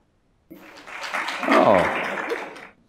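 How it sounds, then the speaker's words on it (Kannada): An audience at a spiritual talk breaks into applause, the clapping swelling to a peak and fading within about two and a half seconds, mixed with some laughter. "ಎಷ್ಟೊಂದು ಮುರಿದ ಹೃದಯಗಳು ಚಪ್ಪಾಳೆ ತಟ್ತಿವೆ"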